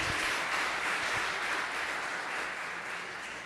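A church congregation applauds in a dense, steady wash of clapping, loud and close, holding strong throughout and easing slightly toward the end, with no talk.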